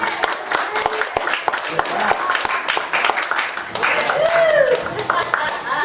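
A church congregation claps at a gospel service, sharp, fairly rhythmic hand claps close by, mixed with voices and a tonal sound, some of it sung.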